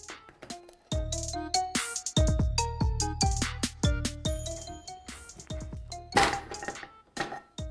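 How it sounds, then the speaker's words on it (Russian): A hand-operated can seaming machine seals metal cans of meat for home canning, giving a run of ringing metallic thunks and clinks at an uneven working rhythm, close and fairly loud. "для железных банок у нас есть специальная закатывающая машинка. Сейчас мы ей воспользуемся тоже."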